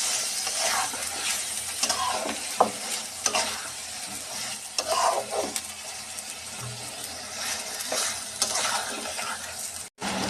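Marinated broiler chicken with spinach sizzles in a pan while a utensil stirs and scrapes through it, with scattered clinks and scrapes over a steady frying hiss; no talk.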